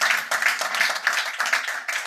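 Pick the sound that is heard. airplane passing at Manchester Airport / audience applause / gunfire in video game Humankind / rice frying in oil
audience applause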